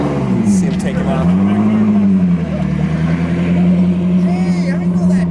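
A car with aftermarket wheels driving off at a classic car show, its engine rumbling loudly and steadily up close as it pulls away, with people talking over it.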